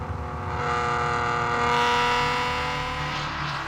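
A Datsun 240Z engine revving hard while driving on a winding road, climbing toward high RPM in a sustained, rising whine with a steady drone that swells and eases, with no voices.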